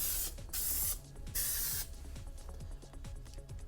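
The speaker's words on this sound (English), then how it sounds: "I'm going to spray here." Aerosol spray can misting paint over a Boba Fett vambrace prop, three short close hissing bursts with brief gaps, followed by quiet clicks and handling noise.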